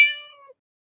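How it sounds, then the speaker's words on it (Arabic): A single cat meows once, clear and close, in a short high-pitched call that ends abruptly, with silence after. "قطة، هرة،"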